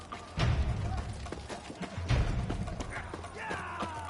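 Horses' hooves clopping in The Witcher 3, a few heavy hoofbeat thuds in two clusters amid ambient game noise, with faint voices in the mix.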